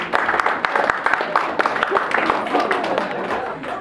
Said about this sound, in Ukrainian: Аплодуємо нашому нареченому.